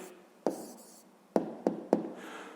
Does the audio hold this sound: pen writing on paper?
yes